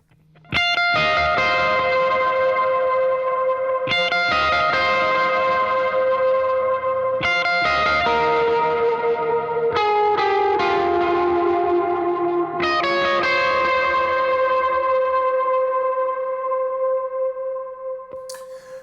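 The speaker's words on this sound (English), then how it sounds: "I'm going to turn on my drive and my verb and delay and show you what it sounds like with effects on." Electric guitar played through drive, reverb and delay, ringing chords struck roughly every three seconds with long distorted sustain and echoing tails, loud and alone for the whole passage.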